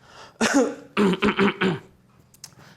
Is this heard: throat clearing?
yes